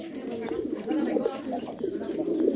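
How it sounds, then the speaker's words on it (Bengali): Big-size fancy Bombay pigeons coo nearby in low, repeated throaty rolls that overlap and swell, with faint background murmur from the surroundings. "এটা বিগ সাইজ কবুতর"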